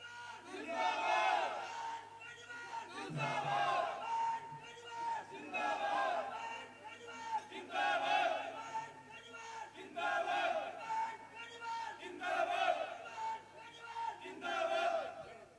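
A rally crowd in Neemkathana roars with chanting and cheering in rhythmic surges, loud and sustained, welcoming a guest during a political yatra.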